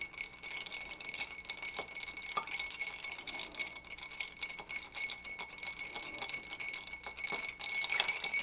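A bar spoon stirs a Cognac Sazerac in a mixing glass, a steady light clinking and ticking of ice against glass with a faint high ring throughout.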